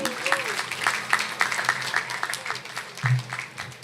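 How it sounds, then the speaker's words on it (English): An audience at a national youth event applauds, with clapping spread evenly across the few seconds, and a voice is heard faintly underneath. "Let's give a round of applause for Loic Charles again."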